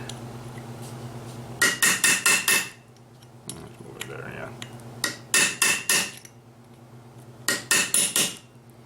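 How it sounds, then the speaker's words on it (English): Three bursts of quick, bright metallic taps as a small hammer strikes a tiny chisel on a lock tab, each a rapid run of five or six strikes, separated by short pauses against a low background hum. "Itty bitty little chisel"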